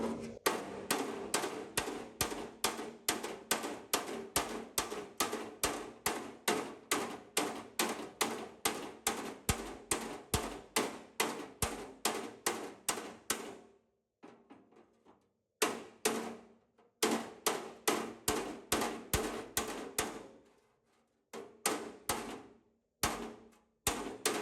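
A hammer taps down slightly high spots on a car body panel during bodywork. The strikes come as a long, fast, regular series of sharp, close metallic blows, then break off and return after a short pause.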